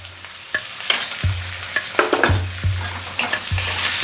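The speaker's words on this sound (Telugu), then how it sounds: "అలా హై ఫ్లేమ్లో టమాటా ముక్కల్ని కూడా వేగనివ్వండి" Tomato pieces fry on high flame while a spoon stirs them, with a loud close sizzle, repeated scraping and clacking strokes against the pan, and occasional louder spits.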